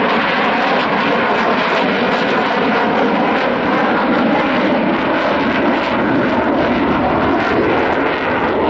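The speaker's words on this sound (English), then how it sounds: "The B2 Spirit." A B-2 Spirit stealth bomber passes over an air show in Michigan, its broad, steady engine roar loud and continuous throughout with no pause or talk.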